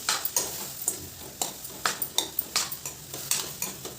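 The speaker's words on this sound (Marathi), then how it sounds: "मटकीसुद्धा ह्या मसाल्यामध्ये छान परतून घ्यायची" Moth beans (matki) stirred through a spicy masala in a pan, with a spoon giving quick rhythmic scrapes and taps against the metal over a faint frying hiss.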